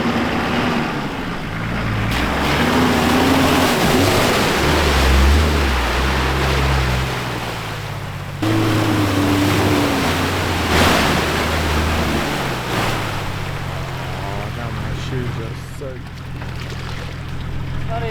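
A Nissan Safari with a TD42 engine ploughs through a deep muddy-water pothole, water surging and sloshing against the body over the engine's low rumble, with people talking throughout.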